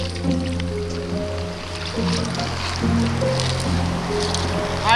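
Glacial meltwater pouring off a mountainside into a lake, a steady close-up rush and trickle of running water with a constant wash under occasional low rumbles.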